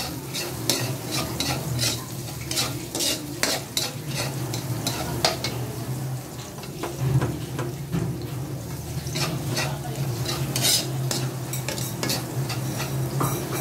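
Garlic for a native-pork kaldereta fries in a pan while being stirred, giving a continuous close sizzle broken by repeated sharp scrapes and clicks of the utensil against the pan, with no talk.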